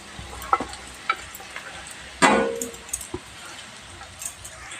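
Ground dal dropped into hot tempering in a pan and stirred, giving a burst of loud sizzling around the middle, with scattered spatula clicks and scrapes and a softer frying hiss before and after.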